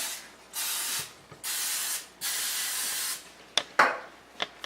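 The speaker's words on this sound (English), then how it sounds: "Cooking spray is just easier for me where I can just spray it on." Several short hissing sprays from an aerosol can, three longer bursts followed by a few quick spritzes and light clicks.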